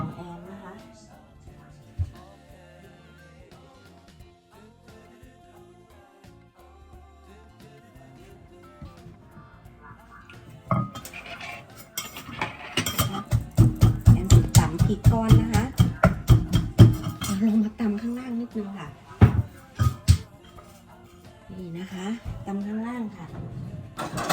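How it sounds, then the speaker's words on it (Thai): Rock chili lumps pounded in a mortar for a spicy Thai shrimp dip, a run of rapid, loud thuds from mid-clip onward after quieter handling, with someone talking over the pounding. "จะตำอันนี้ก่อนนะคะ ตำพริกก้อนค่ะ"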